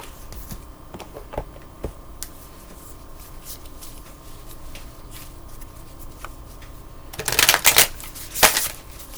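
Oracle cards shuffled by hand during a reading, a soft papery riffling that stays quiet for most of the stretch, then swells into a few louder, crisp bursts of cards flicking together near the end.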